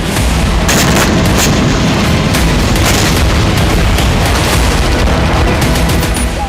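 Rocket attack explosions from Hezbollah fire on Nahariya in northern Israel, a dense continuous roar of booming blasts and crackling bursts, loud and sustained throughout with no talking.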